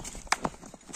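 Hooves of a tall horse in Aksy clop in a few quick, sharp knocks at close range, uneven in spacing, over a quiet background.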